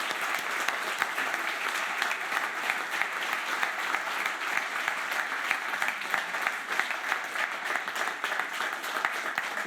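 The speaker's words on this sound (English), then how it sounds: "Let's give a big round of applause to our panel" Sustained, even applause from an audience honouring a panel at an ocean innovation event, dense clapping holding steady throughout at moderate distance.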